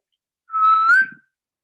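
A person whistles a single rising note that lasts about three quarters of a second, clear and fairly loud, with silence before and after.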